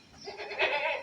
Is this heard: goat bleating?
yes